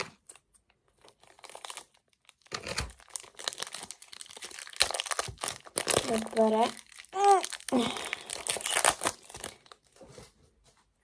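Crinkly plastic packaging being torn open and unwrapped from a toy figure box, loud bursts of crackling and crumpling with brief pauses, while someone talks over it.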